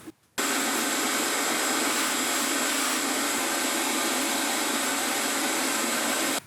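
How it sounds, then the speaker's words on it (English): After a car air filter is replaced, a vacuum cleaner switches on abruptly and clears debris from the filter housing with a close, steady, high whining drone. "so make sure you give it a good vacuum"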